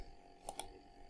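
Two quick, light keypresses on a computer keyboard while typing a word for a logo design, close and faint against a quiet room background, with no talk.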